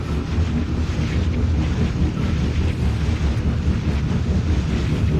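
Wind roaring through a tunnel in the video game Dead Space, a loud, steady, unbroken rush that fills the whole stretch with no voices.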